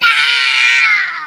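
A young child imitates a dinosaur roar with one sustained, loud, high-pitched screech that holds steady throughout and tapers slightly at the end.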